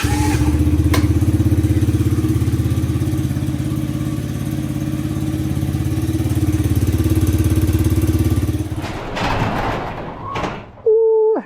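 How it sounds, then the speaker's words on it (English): X-Pro Storm 125 motorcycle engine running at a steady, loud idle for about nine seconds, then cutting off, followed by brief handling clatter and a short mechanical tone. "Let's go ahead and crank her up"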